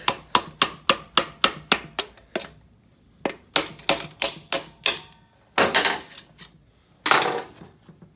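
Sharp metallic hammer blows in quick series on a Honda CT70 axle bolt in a shop, about nine evenly spaced close strikes, a pause, more rapid strikes, then two heavier scraping knocks as the bolt is driven out.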